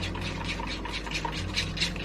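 A whisk stirs thick lemon cake batter in a bowl, a steady run of soft wet sloshing and clinking strokes, quiet and close with no talking.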